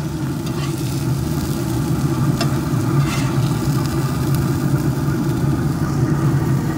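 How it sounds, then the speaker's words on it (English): Burger patties searing on a pellet grill give off a steady, close sizzle over a low hum, continuous with no talking. "Getting a good sear on here."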